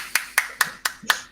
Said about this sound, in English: Let me also give you a round of applause by myself.